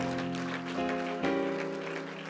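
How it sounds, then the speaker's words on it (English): A church congregation claps hands in praise over sustained organ-like musical tones, the clapping soft and blended beneath the music for a couple of seconds. "Give the Lord a hand clap of praise."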